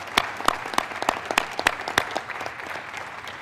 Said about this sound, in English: let's give them a round of applause and thank them for all they do